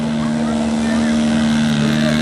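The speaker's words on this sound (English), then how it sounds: "the airplane that he's flying right now is a 150cc 2-cylinder motor on it" An RC model airplane powered by a 150cc two-cylinder Desert Aircraft engine drones steadily with a strong constant engine tone, loud and unbroken across the short stretch.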